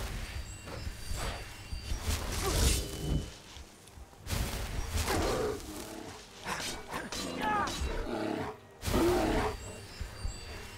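A polar bear in Skyrim gives repeated growling roars in several bursts, with someone speaking German between and over them.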